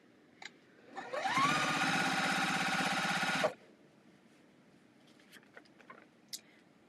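A sewing machine chain-sewing pieces of cotton fabric runs in one steady, whirring burst of about two seconds, close and loud, followed by quiet handling clicks and rustles.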